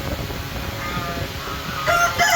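A rooftop rooster, one of a pair of Colombian Light Brahma cocks, crows clearly in hot midday conditions, a single loud call rising near the end against a steady background hum.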